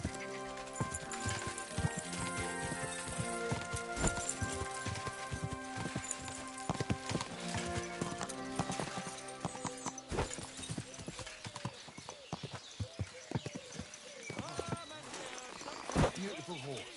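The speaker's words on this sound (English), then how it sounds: "Beautiful horse." Rhythmic clip-clop of horse hooves trotting steadily in the video game Kingdom Come: Deliverance II, with game music and occasional voices layered over the hoofbeats.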